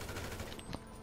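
Gunfire in a GTA 5 Online deathmatch, a dense burst of rapid shots that fills the first half before easing to a single sharper crack, loud and close with no talk.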